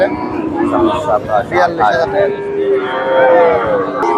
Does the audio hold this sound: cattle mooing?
yes